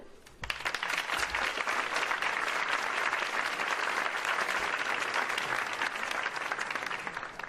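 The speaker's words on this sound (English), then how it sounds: "You are welcome to applaud as they take the stage" A crowd at a gubernatorial candidates' debate on social justice breaks into applause as candidates walk onstage, a dense, steady wash of many hands clapping that starts abruptly and holds evenly loud to the end, with no voices.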